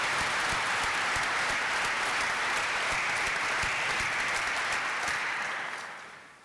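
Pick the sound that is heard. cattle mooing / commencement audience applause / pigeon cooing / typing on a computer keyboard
commencement audience applause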